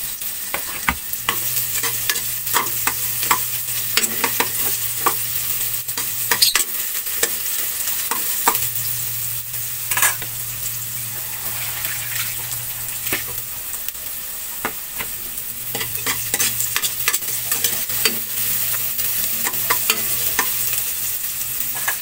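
Garlic and onion sauté in a pan for mung bean soup with spare ribs, a steady close sizzle with frequent scraping stirs of the spatula running throughout, plus a low hum in the background.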